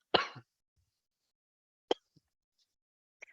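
A quiet, close throat clearing opens, followed after a pause by a brief cough and small faint mouth noises in an otherwise silent room.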